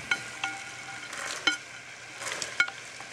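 Corn being stirred in a pan while cooking relish, soft sizzling under a few sharp clacks and scrapes of a spoon against the pan, quiet and close.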